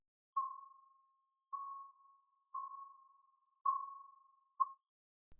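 Five short, pure tones at one steady pitch, an isolated frequency band near the fourth overtone of a snare drum, each struck and then fading, spaced about a second apart against silence; the last is clipped shorter.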